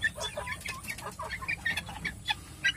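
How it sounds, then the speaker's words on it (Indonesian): Young chickens about one and a half months old cluck and chirp continuously while feeding on bread, a small flock close by with overlapping calls. "Nah, semua anakan ayam pada makan ya."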